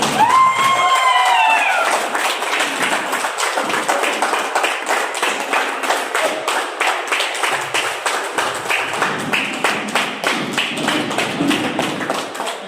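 A crowd at a company event claps as CMO Mr. Mubeen Khan comes on stage, opening with a loud cheer, then settling into rhythmic, unison clapping with a regular beat, close and loud throughout.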